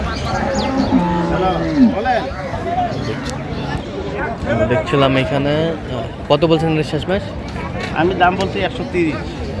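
Cows and calves of improved dairy breeds mooing repeatedly at the Ambari cattle market in Dinajpur, several loud drawn-out calls close by amid a busy crowd babble with people talking throughout.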